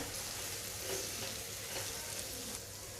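Okra tossed with roasted gram flour in a pan gives a soft, continuous sizzle with faint scraping from stirring, quiet and close, with no voices over it.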